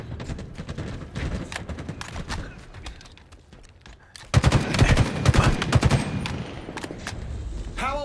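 Rapid automatic gunfire from Halo Infinite multiplayer, with bursts of shots and a louder, denser stretch of fire in the second half, alone without talk.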